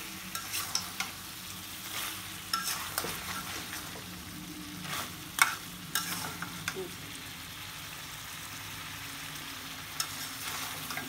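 Chicken for a curry fries in oil in a pot, a soft steady sizzle broken by repeated sharp scrapes and knocks as the meat is stirred, close and moderately quiet.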